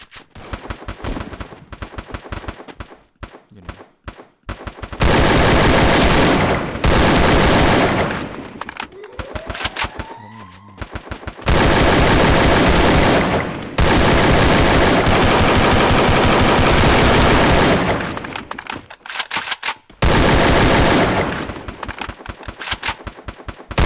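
Gunfire in the Free Fire video game: loud, sustained automatic bursts with a few short gaps, near and dominant, with brief quieter stretches between volleys.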